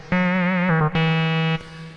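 A buzzy square-wave tone from a modular synth oscillator without a sub oscillator plays short notes that glide between pitches, with slight vibrato on the first, then a steady held note fading out.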